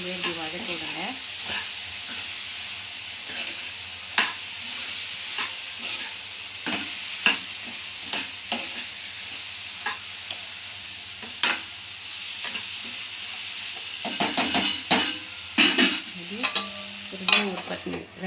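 Tomato, onion and brinjal sauté in hot oil in a pan, giving a steady close sizzle broken by repeated scraping and stirring clicks, which grow busier toward the end.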